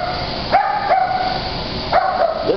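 A one-year-old, 50-pound dog gives four short, sharp yelping barks in two close pairs, loud and near against a quiet room.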